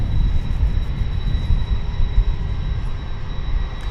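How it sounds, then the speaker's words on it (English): An Airbus A321neo airliner on American Flight 399 from Anchorage arrives at Dallas Fort Worth airport, a steady low engine rumble with broad roar, distant and constant, with a faint high whine over it. "we'll set up for the arrival of American Flight 399 coming in from Anchorage"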